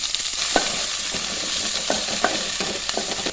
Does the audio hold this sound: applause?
no